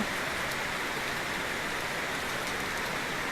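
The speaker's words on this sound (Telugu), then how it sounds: "మొక్కలకి చల్లగా హాయిగా చూసారుగా మీరే ఎంత బాగుందో ఈ ముత్యాల వాన" A fine, rain-like spray of water showers down onto potted garden plants, producing an unbroken, even hiss that stays at the same level throughout, close by and with no talking.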